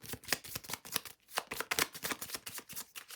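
Cards for the Pathfinder Adventure Card Game, Mummy's Mask, are shuffled by hand on a tabletop, a close run of soft rapid riffling bursts in a steady rhythm with brief pauses between, no voices.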